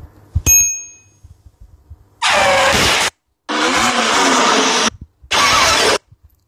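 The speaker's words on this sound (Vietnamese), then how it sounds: "Còn giao thông sẽ là tiếng xe cộ, tiếng còi, tiếng đèn, các thứ này." Stock traffic sound effect from an editing app's library: a brief bell-like ding, then three loud bursts of vehicle engine noise separated by short gaps, with no talking.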